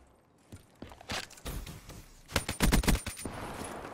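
Bursts of gunfire from the video game Black Ops 3, scattered shots building to a rapid close volley before trailing off, moderately loud with no talk.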